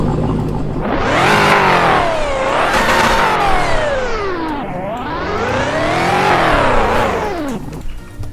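A Dodge car engine revs up and down twice in long sweeping swells, loud and close, its tone climbing and falling with each push of the throttle.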